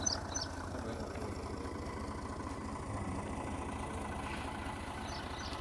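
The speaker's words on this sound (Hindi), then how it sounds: "निकाल रहे हैं ट्रैक्टर से।" A tractor engine runs steadily while a 260-foot-deep submersible pump motor is pulled from a borehole, giving a faint, even low throb of rapid engine pulses with no talking.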